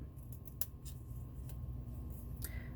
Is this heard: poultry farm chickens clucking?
no